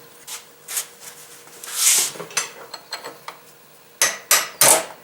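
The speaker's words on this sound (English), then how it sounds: "Tighten it up with your blunt chisel." A blunt chisel is tapped to tighten the axle nut on a Nissan D21 Hardbody rear axle, producing a series of close, sharp metallic taps at an irregular pace, some grouped in quick pairs.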